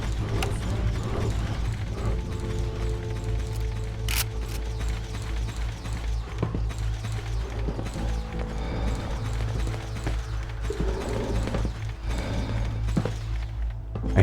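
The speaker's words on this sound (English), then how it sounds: "I hear footsteps everywhere." Footsteps in Fallout 4, a steady clip-clopping rhythm of repeated steps over a low continuous ambient drone, with occasional mechanical clicks and no talk.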